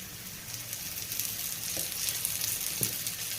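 Banana pieces roasting in ghee for payasam, a soft steady sizzle with a couple of light stirring taps, no one speaking.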